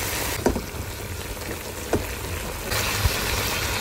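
Beef coated in spices and oil cooks in a pan with a steady low bubbling sizzle, broken by a few sharp scraping clicks as it is turned, the frying growing slightly brighter and fuller near the end.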